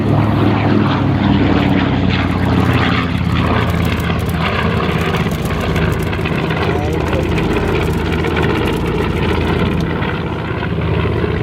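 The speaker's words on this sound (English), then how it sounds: "B-25 Panchito to your right now on final approach and touching down." A World War II B-25 bomber drones past on final approach and touchdown at the Geneseo 2015 airshow, its piston propeller engines a loud, sustained roar with an announcer talking over it.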